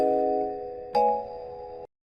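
A bright bell chime rings out, then a second, higher ding strikes and sustains briefly before cutting off.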